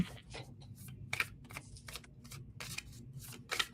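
Tarot cards being shuffled by hand up close, a series of crisp papery riffles and rustling bursts in irregular rhythm against a quiet room.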